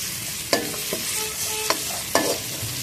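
Onions, garlic and ginger sizzle steadily in a karahi while a spoon stirs through them, with a few sharp scrapes against the pan cutting into the constant frying hiss.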